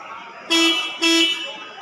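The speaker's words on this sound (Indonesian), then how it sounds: "Klaksonnya berbunyi teman-teman." A Toyota Avanza's car horn honks twice in short, loud blasts, close by, over a steady humming background, with the car raised on a service lift.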